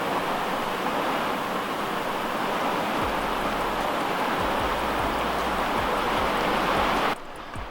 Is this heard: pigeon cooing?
no